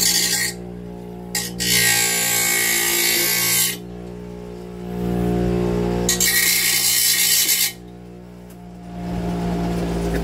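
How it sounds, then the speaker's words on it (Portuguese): Bench grinder cutting a rivet on a pressure cooker handle, with three sustained harsh grinding passes over a constant motor hum, loud and close with short pauses between. "A gente vai cortar ele com esmeril"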